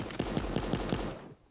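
Rapid regular bursts of gunfire, about six evenly spaced shots over a second, loud and close in the cartoon battle-royale game Super Animal Royale, ending abruptly in near silence.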